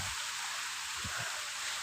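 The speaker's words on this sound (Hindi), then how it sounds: "लेकिन बारिश बहुत है" Heavy rain falling steadily in a village during a strong windstorm, a dense, even hiss of drops throughout with a couple of brief low thumps near the middle and no talking.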